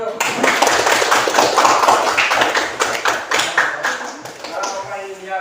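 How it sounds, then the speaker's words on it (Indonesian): Indoor applause from a gathered audience at a school or community event, dense overlapping claps and taps holding steady for several seconds with crowd voices mixed in. "Terus sekali dulu tepuk tangan dulu."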